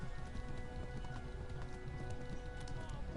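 Horse hooves clip-clopping steadily in the medieval game Kingdom Come: Deliverance, a continuous rapid rhythm of hoofbeats heard faintly in the background with no other clear sounds.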